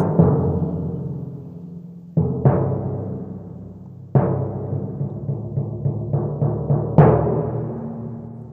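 Soloed orchestral timpani doubling a low bass line: a series of deep, resonant strikes, some single and some in quick runs, each booming and slowly decaying, heard alone.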